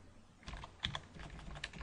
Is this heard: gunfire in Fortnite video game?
no